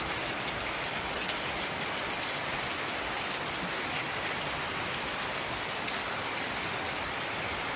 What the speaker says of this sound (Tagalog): medyo mahina lang naman guys yung ulan